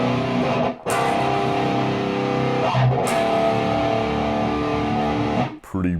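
Heavy distorted seven-string guitar chords played on the lower strings ring out loud and sustained, with a couple of brief breaks where the strings are re-struck before the sound cuts off.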